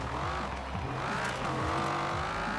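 A tuned car engine in Forza Horizon 4 revs and shifts in a busy, rising and falling drone with a little tire squeal, loud and close throughout.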